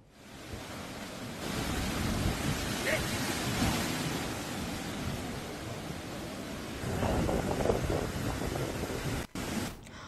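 Cyclone Biparjoy batters the coast at Valsad, Gujarat, with strong wind and high waves: a continuous, roaring wash of wind and surf that swells louder toward the end and then breaks off briefly.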